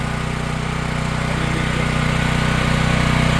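Champion dual fuel generator engine running steadily after a restart on full choke, with the fuel run dry and the petcock shut. Its loud, even mechanical drone holds throughout with no talking.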